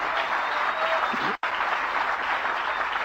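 Audience applause fills a convention hall: steady, dense clapping from a large crowd with one brief cut to silence partway through, then the clapping carries on evenly.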